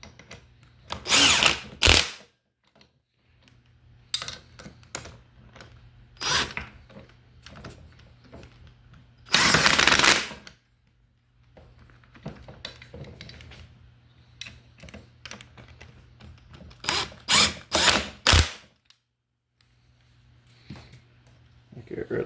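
A small impact wrench runs down power steering pump bolts on a classic Ford Thompson pump in a workshop, loud rattling bursts of a second or two, repeated several times between quieter shop noise and a voice.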